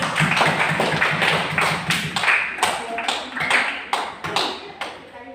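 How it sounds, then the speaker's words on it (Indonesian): A classroom of students clapping in applause, a burst of fairly loud, uneven handclaps that thins into scattered claps and fades toward the end. "Malaikat ya harus kita berikan aplaus."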